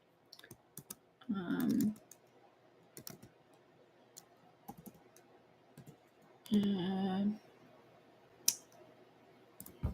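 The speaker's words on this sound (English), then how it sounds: "I started typing." Quiet, irregular clicking of fingers typing on a computer keyboard, soft taps scattered through the stretch with two louder bursts of rustling handling noise and no voices.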